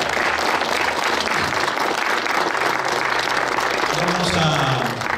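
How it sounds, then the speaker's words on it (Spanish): Wedding guests in San Sebastián applaud the couple with a steady, full round of clapping from a crowd. A voice comes in underneath near the end. "¿Podemos dar un voto de aplausos a ellos?"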